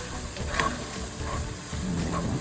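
Garlic, four cloves, sautéing with onion in hot oil for a red lentil dahl, giving a steady close sizzle with brief stirring scrapes throughout, no voices.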